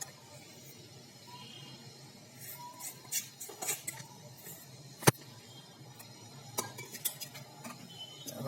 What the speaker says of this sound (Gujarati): દૂધની અંદર સરસ રીતે મિક્સ કરવાનું છે મિત્રો